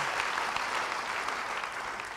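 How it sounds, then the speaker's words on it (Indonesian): Steady, dense applause from a church congregation during a Sunday revival service, a continuous wash of clapping heard at moderate distance without speech. "Yang mau beri tepuk tangan bagi dia, haleluya."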